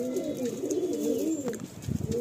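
Madrasi pigeons cooing in a loft, with steady overlapping low coos running through the whole stretch and a few louder, closer calls near the end, no talking.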